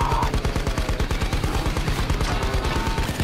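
Rapid automatic gunfire in the video game Payday 2, a loud sustained burst of repeated shots firing continuously over a din of game effects, with no talking.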